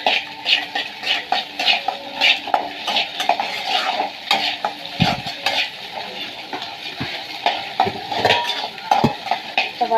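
A spatula stirs egg frying with a little salt in a metal pan, making busy, clattering scrapes and clinks for the full stretch, close and fairly loud, with only a faint frying sizzle beneath and no speech.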